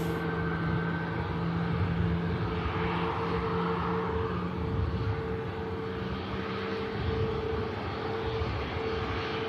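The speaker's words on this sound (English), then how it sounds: "Got the Buzz aircraft on the taxi down here now." A Buzz airliner taxis at Manchester Airport, a steady distant engine drone with sustained whining tones, moderately loud and unchanging throughout, with no talk.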